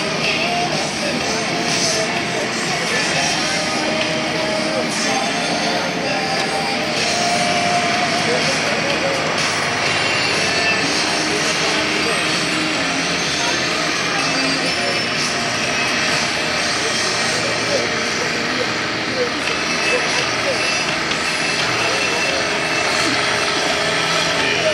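A 4.5-ton Standard class pulling tractor driven by Sander Vaags roars at full power through a long run at the 2018 Denekamp tractor pull, a loud, steady engine drone with an announcer talking over it.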